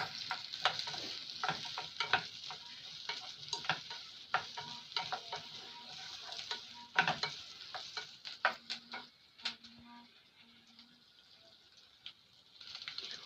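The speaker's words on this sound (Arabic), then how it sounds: "عندي بقى من 3-4 فصوص توم كده هشوحهم برضو كويس" Garlic and onion sautéing in a pot for lentil soup: a faint sizzle under scattered scrapes and taps of a stirring utensil, quiet and irregular, with no voices.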